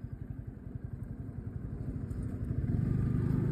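A motorcycle slowing on a rough, broken road at night, its engine chugging in a steady low pulse that swells as it rolls to a stop.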